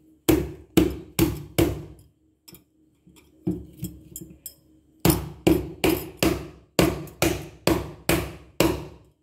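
A hard-shelled bael wood apple is cracked open with repeated sharp, loud strikes in close, steady bursts, with a quieter stretch of lighter taps in the middle.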